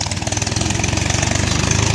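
A tractor engine chugs loudly and close by in a fast, steady, pulsing rhythm, with no voices over it.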